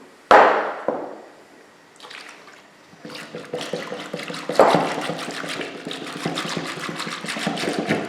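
Cupfuls of an ingredient are added to a cocoa and oil mixture in a home kitchen, with a sharp clang, pouring and liquid sloshing, then busy scraping and mixing noises that carry on steadily at close range with no talk.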